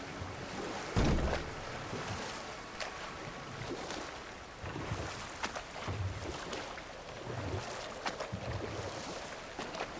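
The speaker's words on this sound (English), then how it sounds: "Waterfalls. We're close." Rushing water from waterfalls in God of War Ragnarök, a steady broadband roar with surging swells and a heavier burst near the start, continuous throughout with no talk.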